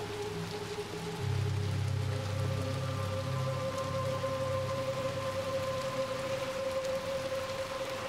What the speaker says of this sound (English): And it sure is raining.